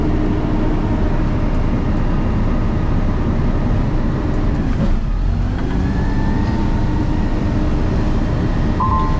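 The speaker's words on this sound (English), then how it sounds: "That little ding that you just heard is" A truck's dashboard gives a brief, faint chime signaling regen mode, heard over the steady loud rumble of the truck's engine and cab noise.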